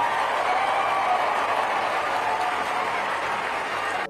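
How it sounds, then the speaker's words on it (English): A huge crowd of thousands cheers and claps together in a dense, unbroken roar of applause that holds at a steady level throughout. "these thousands of people cheering at the word retarded"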